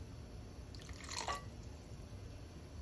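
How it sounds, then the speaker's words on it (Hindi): A little water is poured into dal palak cooking over a medium flame, heard as a brief, soft splash and trickle that rises out of faint kitchen background noise. "थोड़ा सा पानी और डलेगा"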